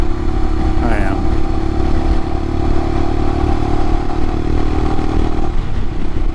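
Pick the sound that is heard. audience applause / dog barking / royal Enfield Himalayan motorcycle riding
royal Enfield Himalayan motorcycle riding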